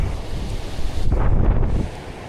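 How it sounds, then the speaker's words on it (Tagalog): Strong wind roars at the seashore at Puerto Salingkapo in Unisan, Quezon, buffeting the microphone in a loud, continuous rush that surges midway, with surf mixed into the noise. "Ang lakas ang hangin doon."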